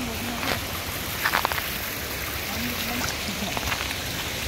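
Rain or water pouring down steadily outdoors, a continuous broadband hiss with a few brief louder splashes, while voices talk faintly underneath.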